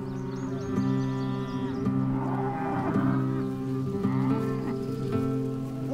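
Cattle on a rotational-grazing farm low repeatedly, with long, deep moos overlapping at moderate distance, one after another against a soft outdoor background, with no talking.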